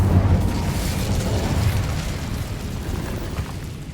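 The Incendio fire spell is cast in the video game Hogwarts Legacy, making a loud, dense whooshing burst of flame. It starts strongest and then holds as a steady roar for a few seconds, with no voices.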